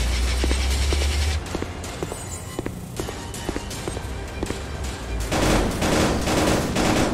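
Gunfire in a VR shooter video game crackles in quick, scattered bursts with sharp individual shots amid a busy, noisy battle backdrop, building into a dense fusillade toward the end.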